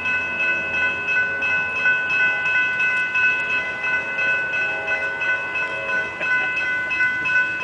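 A train rumbles past close by in Pewaukee, Wisconsin, with a steady mechanical roar and sustained tonal squeal from the wheels or horn.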